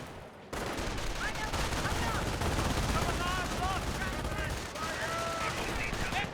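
MG42 machine gun firing in Company of Heroes, continuous rattling bursts amid a dense battlefield din of explosions and distant shots, with a commentator talking underneath.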